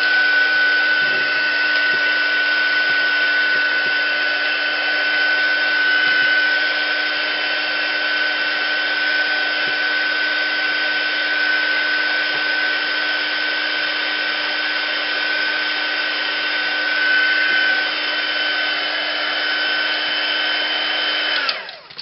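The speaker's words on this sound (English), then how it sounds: "And that gets some heat gun treatment." Close, loud heat gun drone, a steady airy whir holding constant for about twenty seconds as it dries a seashore mixed media tag card, then switching off abruptly.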